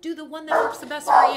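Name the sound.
dog barking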